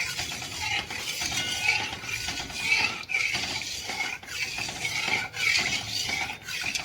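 A spoon stirs tapioca halwa mixture in a pot on a low gas flame, scraping along the bottom with repeated metallic clinks and scrapes in an uneven rhythm, close and clear, with no talking.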